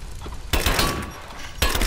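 Gunfire in the video game Rise of the Tomb Raider, heard as two sharp, loud bursts with shattering edges and a lingering crackle between them over a constant background of game noise.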